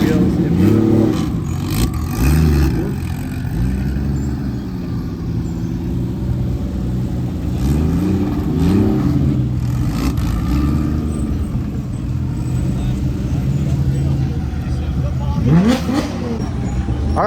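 A Porsche 911 sports car engine with about 500 horsepower revs and accelerates nearby in repeated rising surges, with people talking over the roar at a Florida supercar meet.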